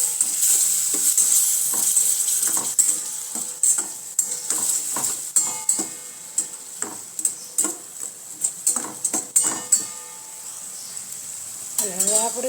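A spoon stirs a mix of turmeric, red chilli powder, amchur, chaat masala, lemon juice and sugar in a bowl, making a run of close, soft scraping strokes in an uneven rhythm, with one brief louder clatter at the end.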